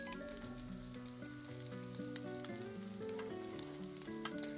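Korean donggeurangttaeng patties sizzle steadily as they pan-fry, with a constant crackling hiss and small pops under soft background music.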